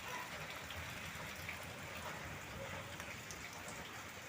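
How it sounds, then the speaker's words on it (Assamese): Heavy rain falls without pause, a dense, constant wash of drops that stays even and fairly soft, heard alone with no talking. "বহুত বৰষুণ হৈছে।"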